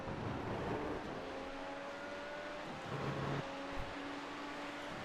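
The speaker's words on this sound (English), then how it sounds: "very careful with the upshift here while getting back on the power." A race car accelerates out of a corner, its engine droning steadily with a clear pitch step at an upshift, heard faintly from on board.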